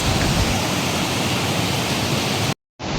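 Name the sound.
Rhine Falls waterfall roaring, with rain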